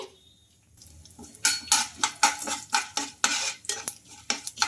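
A spoon stirs tempering in a kadai, scraping and clinking against the metal in a steady run of close, bright strokes, with a faint sizzle of hot oil with cumin, mustard seeds and urad dal beneath.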